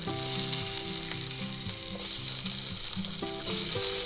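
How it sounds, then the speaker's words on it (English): Onions sizzling steadily as they soften in a hot pan, a continuous bright frying hiss with background music playing underneath. "now what we're looking to do here is just soften up our onions a little"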